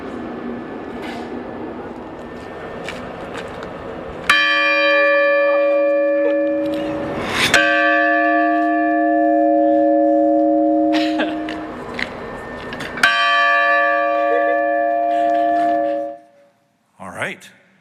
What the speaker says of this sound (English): You are the first to ever ring the sesquicentennial bell in front of Guggenheim Hall